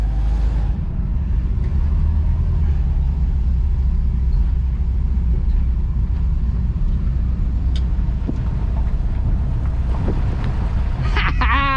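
A car engine runs on its first drive after a starter repair, a steady close rumble filling the whole stretch, with some clicks and knocks near the end.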